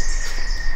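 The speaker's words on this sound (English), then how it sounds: "Pretty little birds." A brief burst of high, dense chirping from small birds or insects, continuous and fairly loud over a low background rumble.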